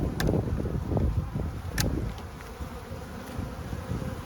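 Honey bees humming around an open hive in a backyard apiary, a steady close buzz with single bees darting past the microphone and light wind noise beneath.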